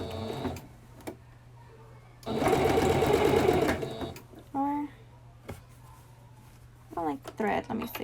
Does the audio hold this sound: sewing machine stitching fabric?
yes